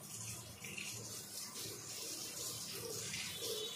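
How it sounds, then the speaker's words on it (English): Tap water running steadily while GCMS ion source parts are rinsed under it, a continuous close hiss and splash with slight shifts as the parts move through the stream. "that's why we are cleaning all these parts in running water"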